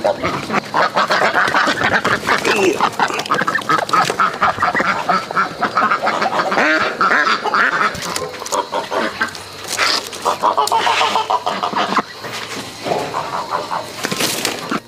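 A duck about to be slaughtered quacks and honks repeatedly and loudly, harsh nasal calls coming in bursts close to the listener over a stretch of rural background noise.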